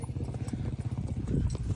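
Horses' hooves clip-clop in a steady, uneven rhythm close by at a dam in Mirpur, Azad Kashmir, as the animals are readied. The hoofbeats carry on for under two seconds at moderate loudness, with faint talk in the background.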